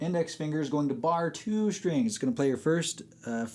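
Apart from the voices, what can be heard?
No everyday noise stands out behind the speech.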